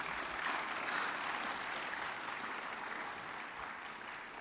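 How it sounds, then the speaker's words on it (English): A Seventh-day Adventist church congregation applauds during a Sabbath School service, sustained even clapping that slowly fades away. "Can we give them a round of applause,"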